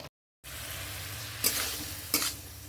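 Prawns fried in a kadai, with a steady close sizzle after a brief silence and two sharper bursts of stirring or tossing.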